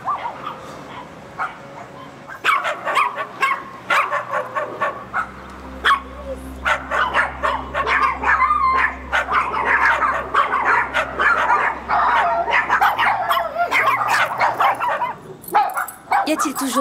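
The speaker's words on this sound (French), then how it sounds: "Y a-t-il toujours autant de chiens ici?" Many dogs bark, yip and whimper at once inside an animal shelter, a dense, overlapping chorus of sharp barks that swells and continues, with people talking under the noise.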